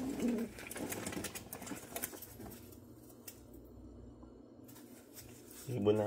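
Low, soft pigeon-like cooing near the start and again at the end, with quiet background murmur between.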